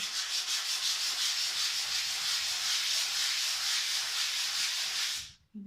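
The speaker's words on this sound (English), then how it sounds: "start with the finer grade, and just softly" Continuous, even rasping of fine sandpaper rubbed softly back and forth over a pastel drawing support, close and steady, stopping abruptly at the end.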